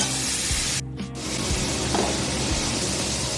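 Potatoes and brinjal frying in a pan give off a continuous, fairly loud hissing sizzle, broken by a few soft scraping stirs and a brief dip in the hiss, heard up close.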